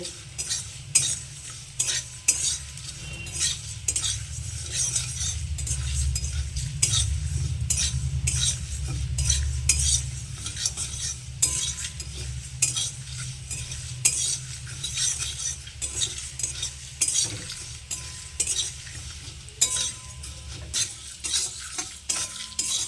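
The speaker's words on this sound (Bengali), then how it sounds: "এখন এবার কড়াইয়ের মধ্যে যাতে জ্বলে না যায়, কারণ কড়াইটা অনেক গরম হয়ে গেছে, তাই ওর মধ্যে আমি এবার নাড়াচাড়া করব" A spoon stirs and scrapes steadily inside a very hot kadai (wok) while making mung dal dahi vada, with continuous clinks and a soft sizzle underneath, close and alone for the whole stretch.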